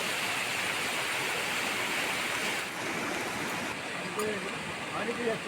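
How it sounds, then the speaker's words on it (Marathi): A nearby river flowing beside rain-soaked farm fields just after rainfall, a steady broadband rushing wash that fills the scene, with faint voices in the background. "इकडे ते बाजूलाच नदी आहे"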